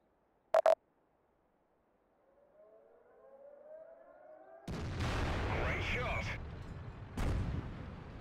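Birch Gun self-propelled artillery in a tank battle video game, a sharp distant shot early on, then a rising siren-like whine and a heavy booming blast followed by rumbling and a second impact, loud and close.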